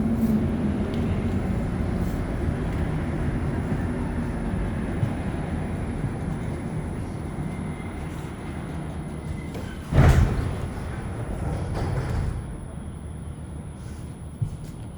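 Inside the end car of a Montreal Metro train while riding between stations, a steady rumbling roar of wheels and running gear with a sharp louder clunk partway through, then the noise eases slightly.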